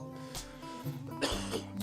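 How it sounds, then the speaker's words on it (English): A few short, harsh coughs close by, broken up by brief pauses and some low background tones. "Sorry. Coughing it out."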